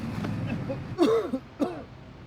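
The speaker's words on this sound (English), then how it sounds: "With the man's persistent coughing" A man coughs twice, a harsh hacking burst followed by a shorter one, close by against a faint background hum.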